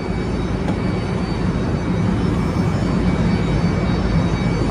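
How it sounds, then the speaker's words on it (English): Aircraft noise fills an airport, a loud, steady low roar and rumble like a distant jet engine that holds constant for several seconds with no talking. "We're at the airport"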